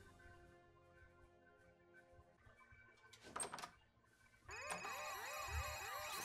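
A telephone rings in South Park: The Fractured But Whole, a repeated electronic bell tone that comes in bursts amid other faint game sounds, growing busier and louder toward the end.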